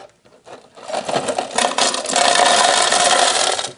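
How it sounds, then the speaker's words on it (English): A Ninja blender grinds candy canes, a loud, dense churning roar with rattling and scraping as the hard pieces break up, building over a few seconds and holding steady until the end. "So we're going to grind it up. Going to make a lot of noise"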